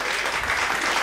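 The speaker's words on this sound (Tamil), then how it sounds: "கைத்தட்டுங்க ஒருவருக்கு." Brief burst of congregation applause during a church sermon, a dense wash of clapping from many hands filling the short moment at steady loudness.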